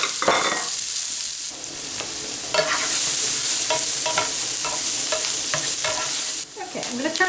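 Chopped onions sizzling steadily in melted butter in a pan, loud and close, with repeated stirring scrapes over the constant frying hiss.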